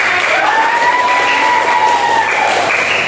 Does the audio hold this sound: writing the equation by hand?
no